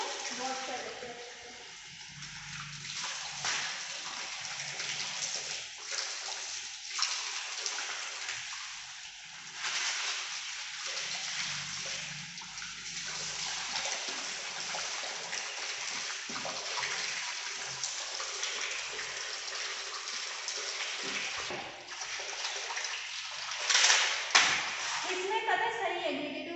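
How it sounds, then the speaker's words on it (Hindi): Aggregate stone being washed under a running tap, a continuous hiss of flowing water with sloshing and splashes, steady throughout, with a person talking over it. "यहाँ पे टैप में पानी चल रहा है, इसमें हम एग्रीगेट को वॉश कर लेते हैं"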